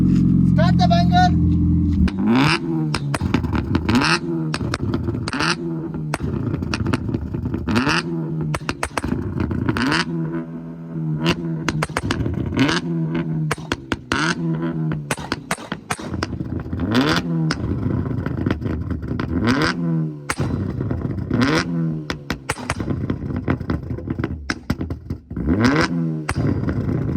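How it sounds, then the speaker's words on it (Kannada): A car fitted with a K1 Customs V6 banger kit revs hard in repeated bursts, each rise ending in loud crackling exhaust pops, close and continuous, with voices talking underneath. "ಈ ಕಾರಲ್ಲಿ ಬಂದ್ಬಿಟ್ಟು K1 ಕಸ್ಟಮ್ಸ್ ಅವರ V6 ಬ್ಯಾಂಗರ್ ಕಿಟ್ ಇದೆ."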